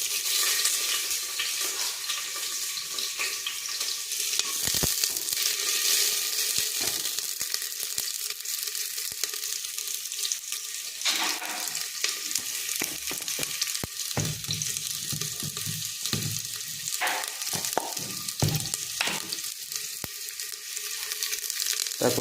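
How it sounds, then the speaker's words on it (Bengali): Onion dropped into hot oil for a South Indian sambar, giving a steady close sizzle with stirring scrapes and occasional sharp spits, no voices. "তেল গরম হয়ে গেছে, এর মধ্যে দিয়ে দেবো এই পেঁয়াজটা দিয়ে দিলাম।"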